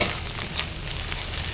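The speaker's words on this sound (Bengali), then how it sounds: "এগুলোকে একসাথে খুব ভালো করে কষিয়ে নিতে হবে যতক্ষণ না এইটা থেকে তেলটা বেরিয়ে আসছে।" Spice paste with salt and turmeric sautéing in a pan, a brief, dense sizzle with soft scraping of stirring, close and even.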